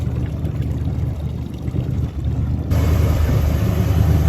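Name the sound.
boat bilge pump pumping out rainwater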